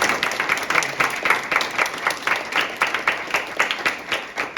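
An audience at a creative writing event applauds with a brisk, steady patter of many hands, moderately loud and continuous throughout.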